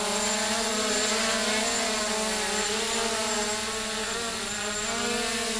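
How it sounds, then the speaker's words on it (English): Brushless motors of an MJX Bugs3 quadcopter drone spinning steadily, a smooth buzzing hum with layered tonal whine, close and constant throughout with no talk. "you can hear how quiet those brushless motors are"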